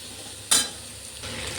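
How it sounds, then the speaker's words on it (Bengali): Vegetables with salt are stirred in a pan for a ridge-gourd-style chochchori: one sharp utensil scrape stands out, then a softer rustling shuffle of pieces being turned over near the end, with no voices. "ভালো করে আমি নাড়াচাড়া করে নেব"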